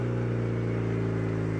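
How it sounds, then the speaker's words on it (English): A Toyota Celica GT-S turbo gives a steady, close engine drone with a dense, even hum and no voices. "It sounds so good when the turbo spins backwards."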